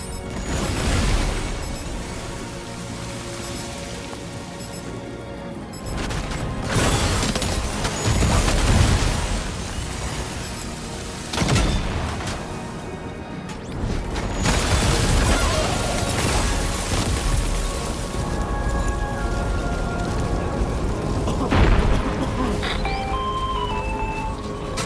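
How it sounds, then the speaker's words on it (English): Heavy booming blasts and crashing impacts from the Magellan ship's main cannon in the video game Death Stranding 2: On the Beach erupt in bursts, loud and dense, with rumbling between volleys. "The Magellan's main cannon is online and ready to provide fire support."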